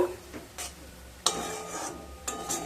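A spoon scraping and stirring dohi bhindi curry in a pan after water is added, a few brief close scrapes separated by quiet gaps, no voices.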